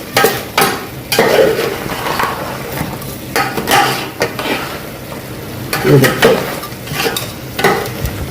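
Crab fry sizzling in oil in a pan, with repeated clattering scrapes of a spatula against the metal as it is stirred, loud and close, a faint voice briefly underneath.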